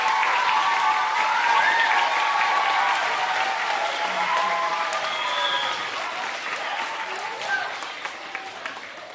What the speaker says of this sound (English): Let's give them a round of applause, and this is applause for you as well